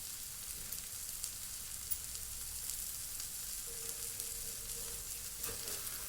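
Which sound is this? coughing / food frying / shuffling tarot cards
food frying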